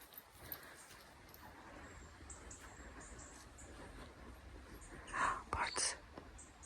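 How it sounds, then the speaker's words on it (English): Birds singing outdoors in the countryside at night near a cottage, a few bright chirps and short warbles standing out near the end over a quiet, breezy background. "Birds."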